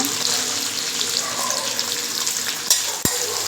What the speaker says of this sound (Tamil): அதையும் போட்டு நல்லா வதக்கலாம்